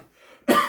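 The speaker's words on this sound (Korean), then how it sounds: "갑자기 기침이." A single short, harsh cough bursts out after a moment of near silence, close and fairly loud, during a church sermon.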